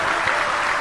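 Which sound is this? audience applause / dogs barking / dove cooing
audience applause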